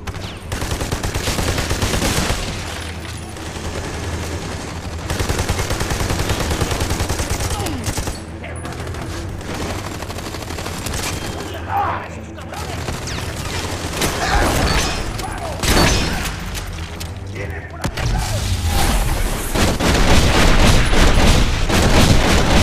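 A heavy enemy gunfire barrage in Army of Two: The Devil's Cartel, sustained loud machine-gun fire mixed with booming explosions that nearly fills the whole stretch, with a voice speaking over the battle at times.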